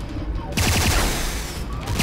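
A burst of rapid gunfire from the shooter game C&C Renegade, dense overlapping shots starting abruptly after a brief quiet moment and continuing loud and close to the end.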